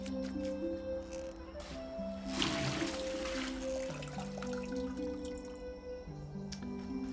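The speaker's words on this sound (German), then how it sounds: "Beim Wasser holen gibt es nämlich auch einen Sound." Water fetched from a well in Medieval Dynasty: soft dripping and trickling with a brief splashing rush in the middle, set against steady background music tones, with no speech.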